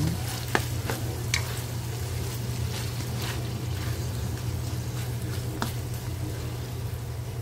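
Chicken stir-fry with bottle gourd sizzles steadily in a hot pan while being stirred, a constant frying hiss with occasional scraping clicks of the utensil and no talking.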